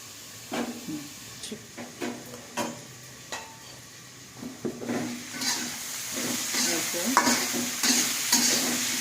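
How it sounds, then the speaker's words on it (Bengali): Paratha fries lightly in a pan, a soft sizzle under sharp scraping and tapping of a turner; the frying hiss grows steadier and louder toward the end. "এখন শুধু হালকা করে ভেজে এইভাবে রেখে দেব, একটা একটা করে, পরবর্তীতে শুধু ঘি দিয়ে ভাজবো।"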